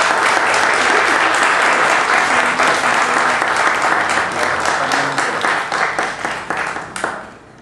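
A graduation ceremony audience applauds as professional degrees are handed out, with loud, sustained clapping that gradually thins out and fades away over about seven seconds.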